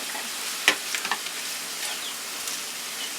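Peas being stirred into pork frying in a pan for pork fried rice, giving a soft, steady sizzle with a few sharp utensil clicks and scrapes near the start.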